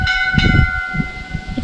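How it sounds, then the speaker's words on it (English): A temple bell rings near a lake in a botanical garden in Pamplemousses, Mauritius, its steady sustained tones hanging at a moderate distance over low rumbling outdoor background noise and footsteps. "If you can hear the bell."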